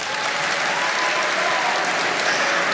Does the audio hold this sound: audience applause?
yes